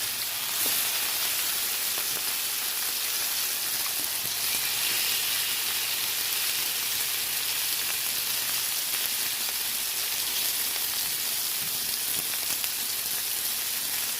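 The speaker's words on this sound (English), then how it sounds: "let's go ahead and get these steaks on. I would say cook them on a medium heat" Salmon steaks fry in oil in a pan over medium heat, with a continuous, even hiss of sizzling that holds at a moderate level for the whole stretch, close by and without any voices.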